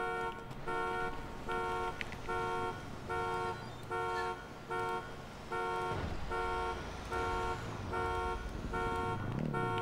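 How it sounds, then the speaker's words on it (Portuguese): A video game car alarm, apparently on an Audi R8, blares a loud pulsing electronic tone in steady on-off bursts throughout, with faint game ambience underneath. "o alarme dele tá bem calibrado"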